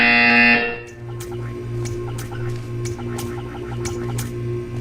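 A loud, harsh electronic buzzer in Portal sounds for about half a second and cuts off, leaving a low steady hum with faint clicks.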